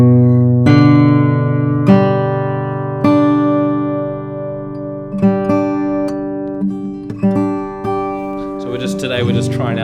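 Plucked notes ring from a 1964 Martin 00-21 New Yorker acoustic guitar with Brazilian rosewood, each attack followed by a long, clear sustain; notes arrive several seconds apart, then faster near the end, close and fairly loud.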